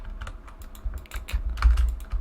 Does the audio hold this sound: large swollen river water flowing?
no